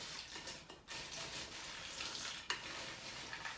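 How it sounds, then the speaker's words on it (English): Dry Chex party mix being tossed with melted butter in a bowl, giving a steady, close rustling and scraping with a sharper clack near the end and no talking. "Give this a really good mix. You want everything covered in that butter mixture."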